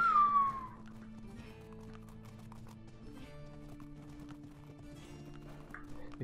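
Horse hooves clip-clopping in the video game ARK, a loud burst at the start and then steady, fainter rhythmic hoofbeats under sustained game music.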